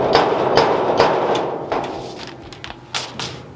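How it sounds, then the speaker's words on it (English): Sharp metallic knocks from a slide hammer pulling a dent on a Ford Galaxie body, about eight uneven impacts spaced over a few seconds against a noisy workshop background. "I go get my little slide hammer dealio"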